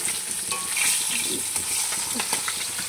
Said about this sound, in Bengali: মাছ ভাজা বসিয়ে দিয়েছি, আর এই যে এখানে বাবুনের তরকারি করব, ওর একটা মাছ ভেজে দিচ্ছি।